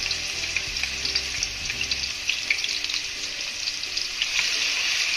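Spice paste frying in hot oil in a pan, a steady broadband sizzle running continuously at close range with faint stirring scrapes, no voices.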